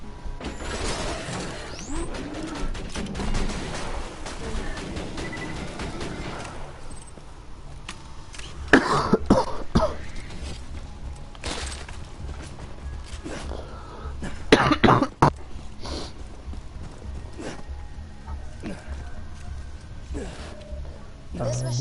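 A sick man coughing repeatedly while playing Borderlands 2, a few harsh, loud coughs scattered between stretches of quieter talk and game sounds.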